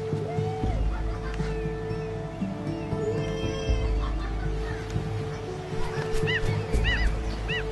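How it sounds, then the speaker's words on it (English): Seagulls call repeatedly in the seaside setting of the video game Unravel, their chirpy arched cries growing clearer and more frequent toward the end over a steady bed of game music and ambience. "Seagulls."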